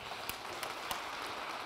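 Audience applause at an Odyssey 2020 hackathon presentation, a short dense burst of clapping with a few sharper claps standing out, heard alone without talk.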